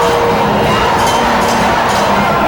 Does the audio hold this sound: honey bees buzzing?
no